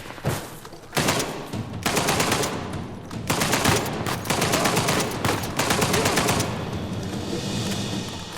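Automatic gunfire rattles in long, loud bursts from the Uncharted 4 video game, several sustained volleys separated by brief pauses, with no talking.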